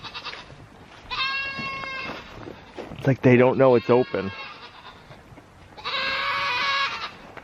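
Pigs in their pen let out two long, high, wavering squeals, one early and one near the end, with a person speaking close by in between.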